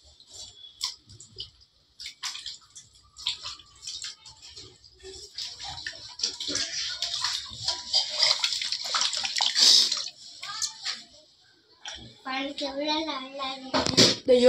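Raw chicken is washed in water, with splashing and sloshing that swells and fades in bursts, voices talking over it and a voice near the end.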